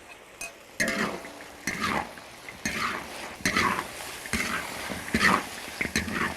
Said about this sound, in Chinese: 把我们刚刚炸的配菜倒进去啊，然后继续给它翻2下